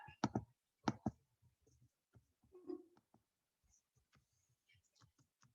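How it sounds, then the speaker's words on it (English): A computer mouse clicks a few times, sharp close taps in quick pairs early on, followed by scattered faint clicks and small handling noises in a quiet room. "Let me go ahead and click on that."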